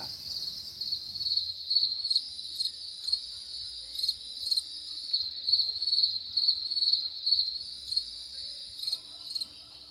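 Crickets on a cricket farm chirp in a loud, continuous high trill that pulses in regular bursts, close and steady with no other sounds over it.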